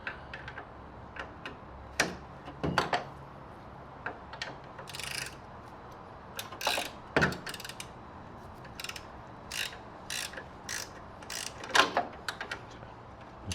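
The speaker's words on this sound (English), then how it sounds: "Now we're gonna unbolt. Let's just loosen these up real quick." A ratchet loosening bolts on a VW floor pan during a Meyers Manx buggy teardown, with bursts of quick, fairly faint clicking and some louder metallic knocks over a quiet garage background.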